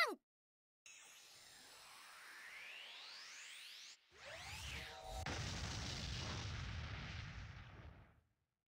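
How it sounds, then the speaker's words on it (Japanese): Explosion spell blast from the anime-style game Konosuba Fantastic Days: rising magical whooshes and shimmering sweeps build for several seconds, then a deep roaring detonation rumbles and fades out. "エクスプローション。"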